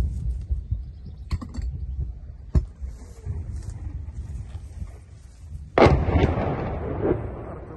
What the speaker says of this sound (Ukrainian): Артилерія противника трошки насипає.